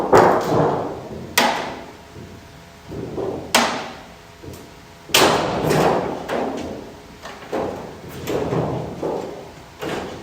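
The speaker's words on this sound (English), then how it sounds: "A little bit easier to pull the skin off this way" Sheet-metal outer skin being pried and pulled off a car door, with a series of sharp metallic bangs and thuds at irregular intervals over scraping and creaking, close and fairly loud.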